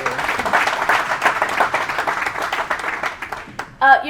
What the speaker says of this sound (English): Please give a round of applause, ladies and gentlemen.